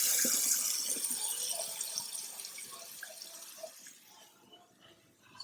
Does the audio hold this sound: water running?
yes